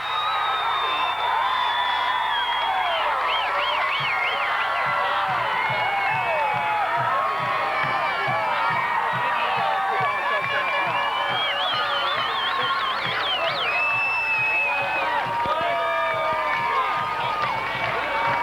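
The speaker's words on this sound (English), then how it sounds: "this crowd is going berserk after a 55-yard, maybe a 55-yard touchdown pass from Deemer to Foster" A packed stadium crowd at a 1992 high school football game, Independence against Amite, roars and whoops without a break after a 55-yard touchdown pass, with loud, dense cheering and shrill whistles throughout.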